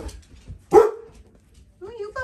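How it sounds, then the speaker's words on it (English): A dog lets out a single sharp bark nearby, followed by quieter whimpering sounds and a short yip near the end, with four-week-old puppies present. "Who are you barking at?"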